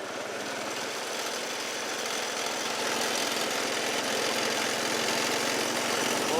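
A lawn mower engine runs at a steady, moderately faint drone with a rough, buzzing texture, slowly growing a little louder, no voices.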